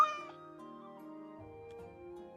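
Cat meowing in the video game Sacred, a clear drawn-out meow standing alone with a short follow-up cry, over steady tonal game music.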